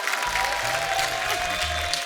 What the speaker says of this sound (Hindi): जोरदार तालियां सुरेश पाजी और प्रियंका भाभी के लिए